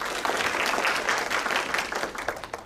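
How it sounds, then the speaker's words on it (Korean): Conference audience applauding in a hall, a brisk burst of clapping that holds steady and then starts to thin out toward the end. "박수 부탁드립니다"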